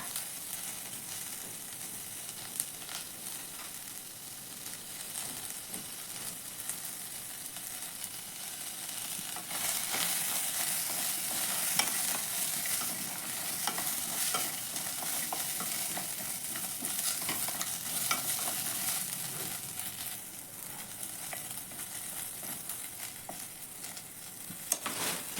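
Ingredients dry roasting in a pan without oil while being stirred, a steady dense scraping and crackle that continues throughout at moderate level, with no voices.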